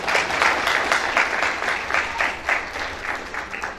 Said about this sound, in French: Applaudis encore pour nous.